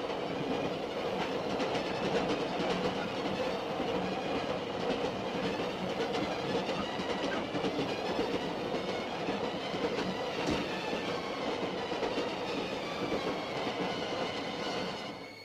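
Flying Scotsman steam train running at speed above 60 miles an hour, a steady loud rumble of carriages with rhythmic wheel clatter and faint rail squeal, continuous throughout with no talking.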